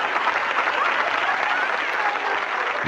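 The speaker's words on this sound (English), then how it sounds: "Who's clapping?" A broad, continuous patter of hands clapping and applauding fills the room at an even level. It carries on without letting up and without any clear voices over it.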